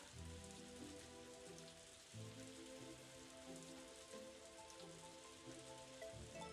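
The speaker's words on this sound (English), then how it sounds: "now that it's pouring down rain" Pouring rain in the farming video game Story of Seasons: A Wonderful Life, a soft steady patter running under gentle background game music, faint and continuous with no talk.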